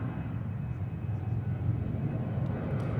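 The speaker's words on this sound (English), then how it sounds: "Delta 80 Heavy, runway 348, clear for takeoff." A Delta heavy widebody jet airliner takes off from Seattle's runway 34R, its engines giving a steady, broad low rumble that holds strong and even throughout, with no voices over it.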